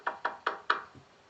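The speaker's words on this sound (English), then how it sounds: "the knock at the bedroom window" Four sharp knocks on a bedroom window in a quiet, snowy night, evenly spaced and fairly close, followed by a faint low thud.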